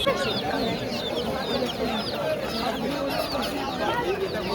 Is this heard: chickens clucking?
yes